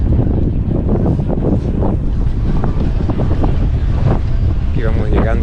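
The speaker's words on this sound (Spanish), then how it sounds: "Está fuerte el viento, está arreciando." A strong wind roars into the microphone on a seafront promenade during a night half marathon in Veracruz, a dense continuous buffeting rumble that stays loud and unbroken throughout.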